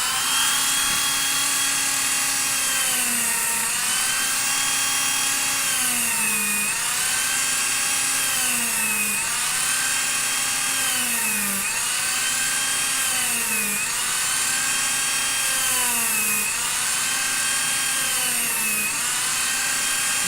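Cordless Dremel rotary tool cutting during a Mark IV Iron Man suit build: steady high-pitched whine that dips in pitch in regular repeated strokes as the bit bites, loud and close throughout with no talking.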